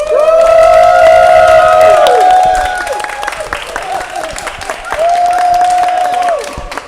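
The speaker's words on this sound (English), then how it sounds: "if you for however much hype you want to give Penny, cheer at that amount" A convention audience at JordanCon cheers and screams loudly for a food battle contestant, a sustained roar of voices and clapping that fades, then a second shorter swell of high-pitched shouting.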